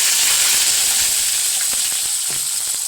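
Onions fry in hot oil in a pan with a loud, steady sizzle and hiss, and a few faint stirring knocks sound underneath.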